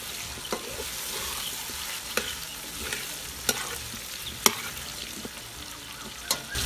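Potatoes fry in a pan while a utensil stirs them, giving a soft continuous sizzle broken by a few sharp scrapes and clinks against the pan, moderately quiet with no talk.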